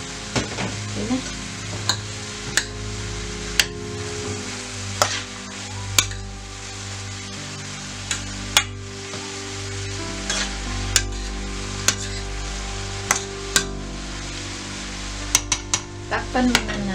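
Green beans, carrots and ground pork sautéing in a pan, with a steady sizzle and frequent sharp clinks of a utensil stirring against the pan throughout, no talking.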